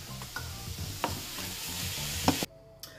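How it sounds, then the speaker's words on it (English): Food being stirred in a pan, with a soft continuous sizzle and a few scraping strokes of the utensil before the sound drops off abruptly near the end. "Stir that around."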